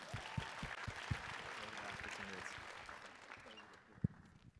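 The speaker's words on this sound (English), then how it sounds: "Can we give a round of applause for Officer Katara?" A school assembly audience at Birdville High School breaks into applause, a fairly quiet, sustained patter of many hands with a few louder claps standing out, fading toward the end.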